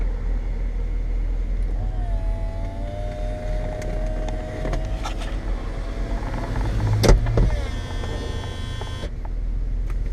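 A 15-year-old BMW Z4 E85 2.5i convertible's electric roof motor whines as the soft top closes, followed by a latching clunk and the windows humming up, all over an idling engine rumble.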